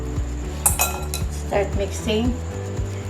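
Puto pao batter of water and cornstarch being mixed by hand, with a spoon or whisk clinking steadily against a metal pan in a quick repeating rhythm, close and fairly loud, with brief voice-like sounds.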